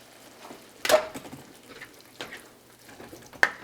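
Cauliflower rice cooking in a pan for a keto Mexican rice, with a soft low sizzle broken by a couple of sharp scraping stirs, close and fairly quiet.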